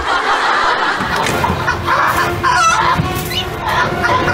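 Chickens cluck and squawk in short, uneven bursts around a home, set against a busy, noisy background with no clear talk.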